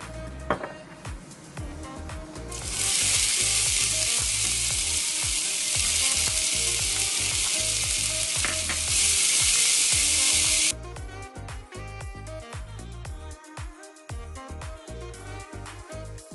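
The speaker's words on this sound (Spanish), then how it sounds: "Aquí vamos a poner un chorrito de aceite para sofreír la cebolla." Onion sautéing in a splash of oil for mushroom rice, with a loud, steady sizzle that bursts up and holds for several seconds before cutting back to quieter crackles and stirring.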